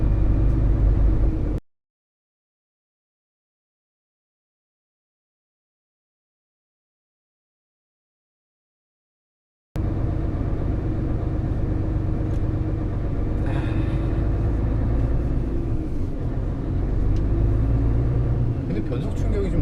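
A Mercedes-Benz Actros truck with a 16-speed automatic gearbox pulls away and accelerates, its deep engine rumble steady and loud after a stretch of silence, with people talking over it.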